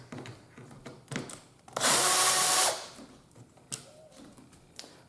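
A power drill backs screws out of a KitchenAid dishwasher panel in one loud, steady burst of about a second, with quieter clicks and handling before and after.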